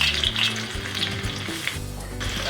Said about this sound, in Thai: ตั้งกระทะครับ เอากระเทียมไปเคี่ยวกันก่อนนะครับ